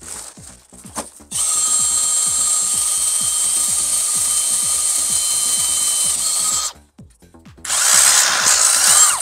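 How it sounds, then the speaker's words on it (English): A power drill bores a hole for a heat pump temperature sensor during a Pentair IntelliCenter and Jandy heat pump install, whining loudly and steadily for about five seconds, then stopping briefly and starting again for a second burst, with faint ticking underneath. "Still got to drill the temp sensor"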